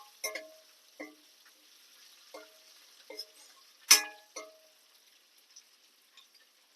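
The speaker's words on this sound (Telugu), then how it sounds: "కొంచెం గోల్డెన్ కలర్లో వచ్చేలాగా వేపుకోండి అమ్మ ఉల్లిపాయ" Onions frying in a pan until golden give off sparse, quiet pops and crackles, spaced irregularly against near silence, with one sharper spit partway through.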